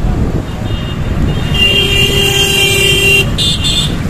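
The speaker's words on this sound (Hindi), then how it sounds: "देखिए जाम लगा दिए, और जाम क्यों लग रहा है" Busy traffic jam on a road in Varanasi near the Pandeypur–Sandaha four-lane project, with a steady wash of engines and a sustained car horn toot held for over a second amid the continuous roadway din.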